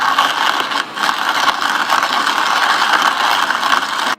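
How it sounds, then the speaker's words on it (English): A coffee grinder set to medium coarse grinds beans for a Chemex, giving a loud, continuous close-up whir with a slight mechanical rattle and no speech. "And we start grinding. Now I set this to medium coarse."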